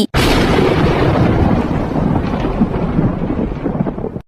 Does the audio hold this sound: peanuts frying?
no